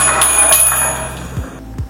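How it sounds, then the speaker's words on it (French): Small bells struck in turn by a ball rolling down an inclined plane, bright metallic rings arriving closer together as it speeds up, with a few low knocks near the end. "les cloches sonnent de plus en plus vite"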